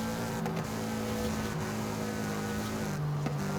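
A Toyota GR86 driving in the video game Forza Horizon 5, its engine droning at a steady, moderately loud pitch with small shifts in tone and a brief change near the end, no talking.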